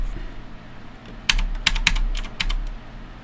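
Computer keyboard keys pressed during CAD modelling work, including the ESC key: about half a dozen crisp, close clicks spaced irregularly over a quiet room background.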